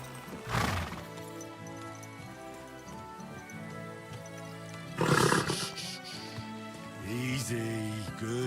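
A horse in Kingdom Come Deliverance 2 gives two loud, breathy whinnies over a steady musical soundtrack, with faint clip-clop of hooves between them.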